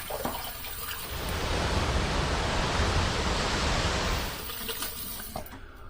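Tap water runs in a steady, loud rush for several seconds while a face is rinsed after a first shave with a PAL injector razor, with quieter splashing before and after.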